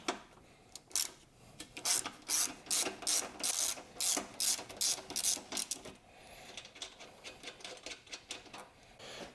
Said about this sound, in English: Back this bolt out.